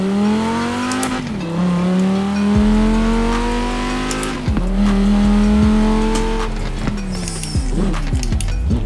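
Quadra V-Tech car from Forza Horizon 4, its engine revving loudly and climbing through several gear shifts, with each rise in pitch broken by a sharp drop and close, steady tone between.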